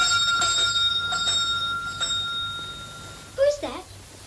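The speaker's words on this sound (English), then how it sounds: "Answer the bell, Christina." A bell rings in short bright bursts in an old 1950 drama interior, a few separated rings over a quiet room tone, followed by a brief chirping sound.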